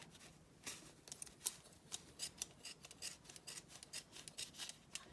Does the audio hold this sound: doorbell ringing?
no